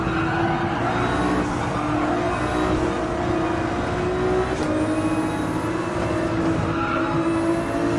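Race car engine in Gran Turismo 7, a steady loud high-revving drone held throughout with faint tire squeal and brief gear-shift dips, no talking.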